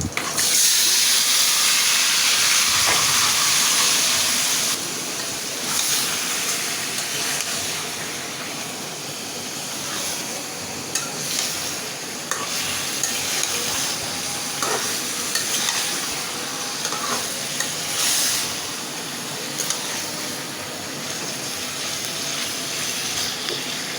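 Beef going into a hot pan for a Bengali-style beef curry with crushed garam masala, a loud, steady sizzle and frying hiss that surges at first, then settles into continuous crackling with stirring clatter and no talk.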